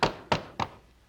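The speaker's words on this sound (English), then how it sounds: "I have a big hammer and I just lay a big knife on and try and make it so it's evenly in half" A big hammer bangs down on a large knife laid across a chicken to split it in half, three sharp, close thunks at an even pace, each decaying quickly into quiet.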